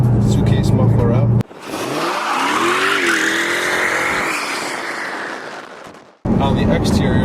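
A Chrysler 300C with a Hemi V8 and its suitcase mufflers cut out revs hard, a loud, rising, raw exhaust roar that swells over several seconds and then drops away abruptly, bracketed by talk before and after.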